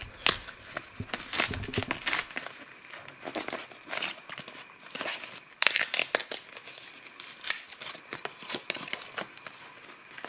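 Rigid cardboard packaging around an SD card is opened by hand, giving faint, close crinkling, tearing and crackling in irregular bursts with no talk.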